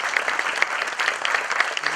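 An audience at a panel debate on sustainable development applauds continuously, a moderately loud wash of many hands clapping with individual claps popping out, and no voices over it.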